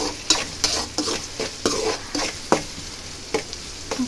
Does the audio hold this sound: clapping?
no